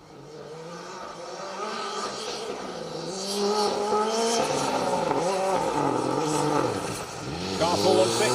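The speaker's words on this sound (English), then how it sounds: "They'll be arriving at us in their Volkswagen Golf R." A Volkswagen Golf R rally car approaches at a rally stage, its engine revving and rising in pitch as it nears and passes loud and close, with a commentator talking over it.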